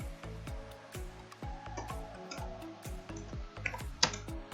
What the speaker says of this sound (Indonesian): Untuk mengisinya kita ketikkan insert